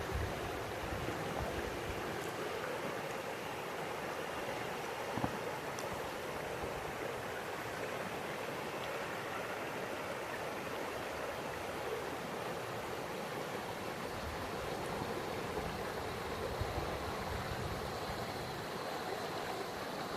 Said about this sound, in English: it's the sound of the river.